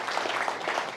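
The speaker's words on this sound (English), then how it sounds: "let's give a hand of applause to Chera and her staff for the food and so forth" Steady, dense applause from a summit audience, a continuous wash of many hands clapping at even loudness with no voices over it.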